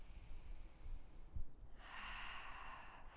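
Deep yoga breathing, faint and close: a soft nasal snort-like inhale followed by a long airy exhale that swells and holds.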